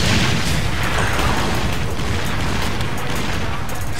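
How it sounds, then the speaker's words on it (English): Dense, continuous booming and crackling explosions in the video game 50 Cent: Blood On The Sand, loud and sustained throughout with no pauses. "Explosions."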